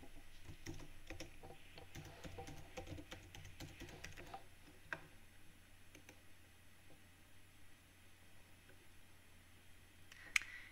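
Keys tap lightly on a computer keyboard as a Google search is typed, a soft run of quick clicks for several seconds, then sparse isolated taps and one sharper click near the end, faint under steady background hiss.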